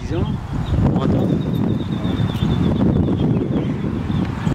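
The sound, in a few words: strong wind blowing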